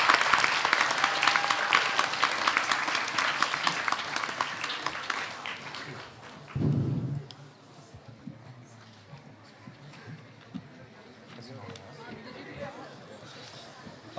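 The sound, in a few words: audience applause for debate candidates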